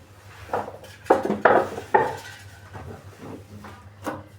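Pots and dishes clatter and knock together in a few quick bursts, close by, with quieter handling sounds between.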